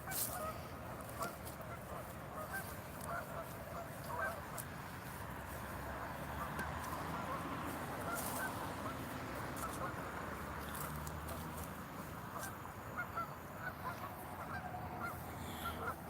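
A flock of geese honks continuously in the distance, a dense chattering mass of calls over steady outdoor background noise.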